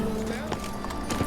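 Hoofbeats of Roach, Geralt's horse in The Witcher 3 on the Nintendo Switch, galloping as a rapid, steady clip-clop close by over a bed of game ambience. A voice speaks over the hooves.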